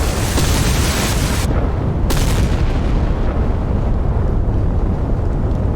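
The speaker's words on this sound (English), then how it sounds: "Yep, just a turret firing now." An Iowa-class battleship's gun turret fires against a Yamato-class battleship in the naval video game Sea Power, a loud, continuous roaring blast and rumble with a sharp burst partway through, no talking.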